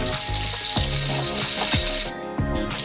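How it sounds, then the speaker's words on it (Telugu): Cauliflower frying lightly in masala in a pan gives a steady, close sizzle with a few sharp clinks or stirs, running on without talk. "ముందుగా కాలీఫ్లవర్ లైట్గా ఒకసారి మసాలాలోని వేగించాలండి"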